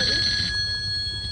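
A telephone rings loudly during an outdoor AIDS awareness street play, with a single bright, steady ring that drops in level halfway through and keeps sounding softly.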